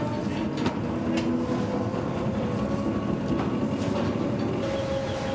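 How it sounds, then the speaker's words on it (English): Underground coal mine train carrying miners miles along a tunnel deep below the surface at Kellingley colliery, a loud, steady rumbling roar with faint rail clicks running throughout. "the miners board a train that travels a further 4 miles into the dark"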